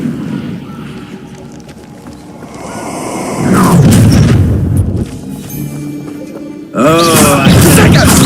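A fiery Incendio spell bursts in Hogwarts Legacy, with loud whooshing booms rising midway and again near the end over a rumbling game backdrop, a voice briefly heard amid the effects.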